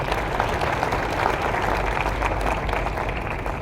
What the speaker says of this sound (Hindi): एक बार जोरदार ताली चाहूँगा मेरे गुरुओं के लिए।